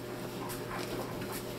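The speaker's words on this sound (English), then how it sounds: "my dog is like waiting for me to drop something" A dog pants and whimpers softly while waiting for dropped chicken in a home kitchen during soup cooking, short breathy bursts and faint whines repeating close by with no talk.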